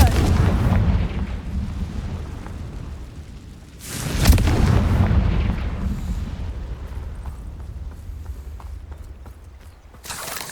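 A fire spell explosion from Hogwarts Legacy lands as a sudden heavy boom that rolls into a long, dense rumble and fades slowly, with a second blast at the very end.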